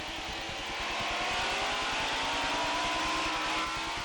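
A 1989 NASCAR stock car engine accelerates in second gear at the race start: a loud, dense, continuous roar with a throbbing low rumble and a slowly rising pitch, no voices.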